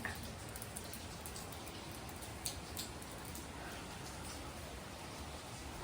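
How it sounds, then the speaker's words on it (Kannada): Rain falls softly and steadily, a faint continuous patter with an occasional sharper drip standing out. "ಮಳೆ ಬರ್ತಾ ಇದೆ almost one and half hour ಆಯಿತು ಸುಮ್ಮನೆ ಬರ್ತಾನೇ ಇದೆ"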